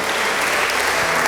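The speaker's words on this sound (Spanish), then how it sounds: "Denle un fuerte aplauso al Señor" Congregation at a church sermon gives the Lord a loud, dense round of applause, steady and close throughout without talk.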